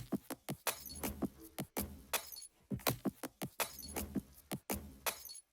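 A percussion loop in a hyperpop beat plays as sharp, bright, clinking hits in a quick repeating rhythm, fairly close and alone with no voices.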